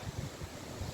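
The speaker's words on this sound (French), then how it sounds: "Écoutez, il y a du vent, mais ça va." Gusty wind on an open limestone plateau during a storm, buffeting the microphone in a steady low roar with soft rumbling bursts, with no voices.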